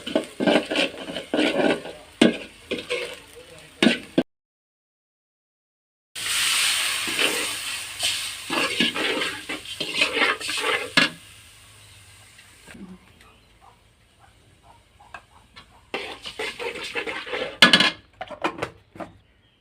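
Onions and green chilies frying in a little oil in a pot on a wood-fired clay stove, a steady sizzle with scraping stirs and clinks, broken by a short silent gap and quieter stretches.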